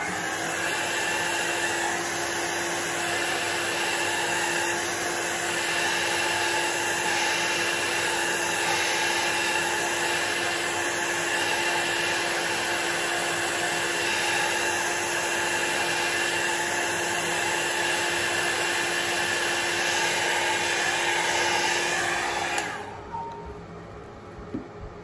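A hair dryer blows steadily across alcohol ink for over twenty seconds, a loud, even whooshing hum that cuts off near the end, leaving faint room noise.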